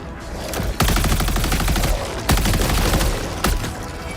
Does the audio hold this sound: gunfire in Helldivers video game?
yes